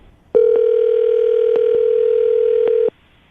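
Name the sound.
telephone call being dialed and ringing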